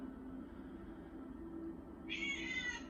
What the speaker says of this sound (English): All I can hear is Morag's cat